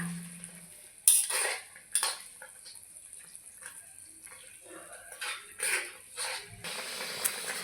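A spoon clinks and scrapes against a pot while half a teaspoon of cumin powder and salt are stirred into a jute leaf curry, giving several sharp metallic taps with quieter scraping between them and no talk.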